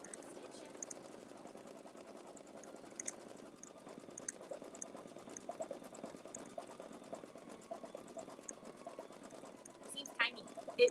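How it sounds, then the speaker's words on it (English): An embroidery machine stitches green thread onto an apron with a fast, steady mechanical whir and faint ticks under quiet talk, with a few louder clicks at the end. "So just start stitching."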